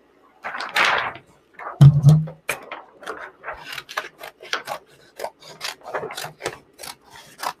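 Cut thermofilm vinyl design being trimmed apart, with close, crisp scraping and rubbing strokes in short uneven bursts, one brief low thump near the start, no speech.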